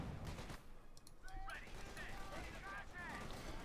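Machine gun crew firing in Company of Heroes 2 as a Panzer IV approaches: faint, dense gunfire crackles under a caster's running commentary.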